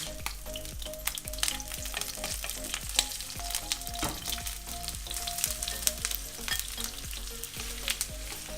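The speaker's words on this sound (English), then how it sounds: "I would like to get it pan fried, slightly crispy." Fish balls pan-fry in hot oil with a loud, steady sizzle full of dense crackles and pops, close by and without talk.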